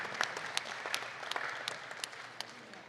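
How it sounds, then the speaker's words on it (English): A crowd at a junior dairy cattle show at the Kentucky State Fair applauds with steady, somewhat distant clapping, individual sharp claps standing out from a soft continuous patter. "big round of applause."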